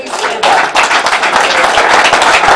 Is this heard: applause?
yes